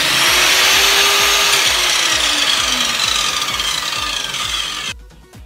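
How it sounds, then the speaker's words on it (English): A loud, close power tool cuts through a composite hockey stick, a harsh, steady grinding buzz that runs without a break for several seconds and then stops abruptly. "Okay, so I've cut up the stick."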